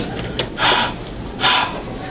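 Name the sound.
heavy breathing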